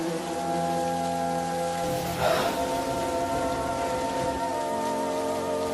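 Heavy rain pours in a dense, steady hiss that drums continuously on surfaces, with a faint tonal background hum running underneath.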